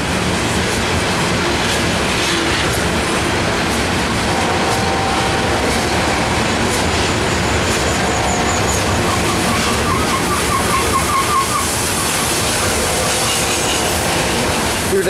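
A freight train hauling rock loads, led by an ET44AH locomotive, rolls past close by near Shawsville, loud continuous rumble with rhythmic clickety-clack of wheels and occasional metallic squeals.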